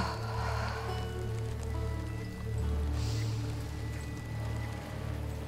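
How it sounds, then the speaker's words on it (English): Steady rain in the video game The Quarry patters on surfaces with a low rumbling hum underneath, swelling slightly now and then. "It's raining and they haven't been tending to it."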